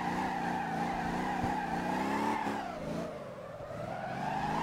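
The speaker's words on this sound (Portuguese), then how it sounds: "Controla bem ele na derrapagem aqui." A car drifting through a corner in the Motor Town driving game, its engine droning steadily with a tonal whine that dips and rises as the tyres skid, moderately loud and without talk.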